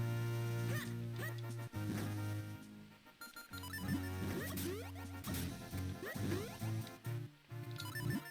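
Small yapping dog barks, repeated in quick bursts, sound over chiptune-style music and game effects in The Legend of Zelda: The Minish Cap.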